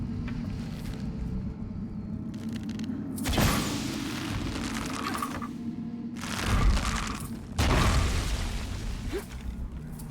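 Muffled booms and rumbling blasts from an explosion in Shadow of the Tomb Raider, with three heavy bursts rising over a continuous low mechanical rumble, no talk.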